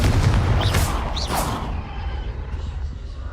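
Confringo blasting spell cast in the game Hogwarts Legacy, a loud close burst with a crackling, whooshing tail that fades over a few seconds.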